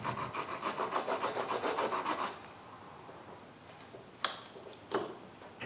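Close, rhythmic rasping strokes of a wood rasp across wood, about a dozen quick passes, then a quieter pause broken by a couple of scrapes.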